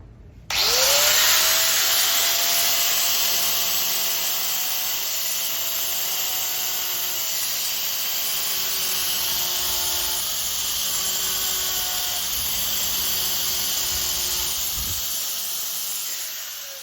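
A 3M balloon belt finishing system sands with a 120 grit Roll-Op belt, spinning up abruptly into a loud, sustained whirring roar with a high shrill edge that holds steady for about fifteen seconds before winding down.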